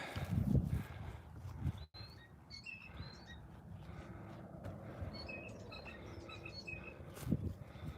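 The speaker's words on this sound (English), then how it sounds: "Several small birds in here. You can hear that blue jay." In a park, a blue jay gives a few calls amid high, thin chirps and twitters from several small birds, mostly faint and distant over a low rumbling background.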